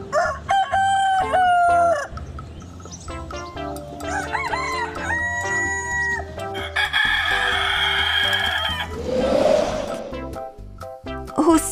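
A rooster crows loudly nearby, a drawn-out call repeated, with clucking and other farmyard birds around it.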